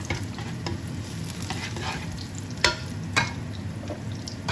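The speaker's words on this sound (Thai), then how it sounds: "ตอนนี้เพชรก็ใส่กระเทียมไปแล้วนะคะ เดี๋ยวจะทำกระเทียมให้หอมก่อน กระเทียมเหลืองแล้วค่ะ" Garlic frying in oil in a pan until golden, a steady close sizzle with a couple of sharp spatula scrapes and taps standing out.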